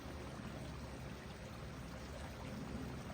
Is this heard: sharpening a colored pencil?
no